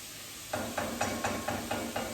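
Food sizzles in a hot pan, with a short quiet lead-in, then regular stirring scrapes every quarter second over the crackle.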